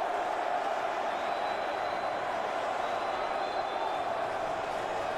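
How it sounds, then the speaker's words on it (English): Boxing crowd at an African confederation elite championship bout, a steady dense roar of many voices shouting and urging a fighter forward, continuous and even throughout with no single voice standing out. "The crowd imploring Pembo Abeka to come forward."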